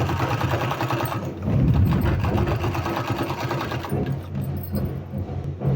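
An electric sewing machine stitches a palazzo pant in close, steady bursts of fast needle chatter. The hum swells briefly and then eases back.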